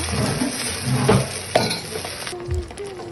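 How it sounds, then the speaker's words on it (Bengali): Ginger and garlic paste sizzles steadily in oil in a pan as it is stirred, with a few soft scrapes and clinks of a spoon; the sizzling fades near the end. "এখন আমি দুই টেবিল চামচ আদা রসুন দিয়ে ভেজে নেব"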